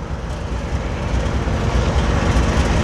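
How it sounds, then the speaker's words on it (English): A westbound CP stack freight train passing through Chase, British Columbia, with a loud, continuous rumble and roar of rolling wagons close by, with no talking. "CP appears to be a westbound stock train"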